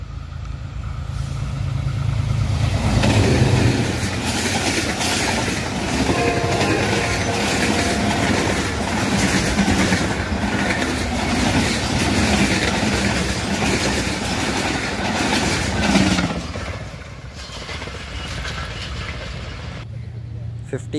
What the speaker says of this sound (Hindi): अल्लामा इकबाल एक्सप्रेस अकाड़ा से पास होते हुए